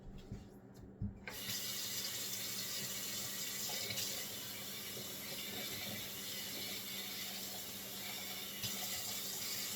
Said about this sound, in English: I'm going to add a little bit of water to thicken.